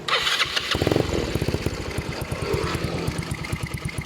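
A Yamaha Mio Sporty scooter engine with a stock head cranks and catches during carburetor tuning, then settles into a rapid, loud, uneven putter close by, with no voices.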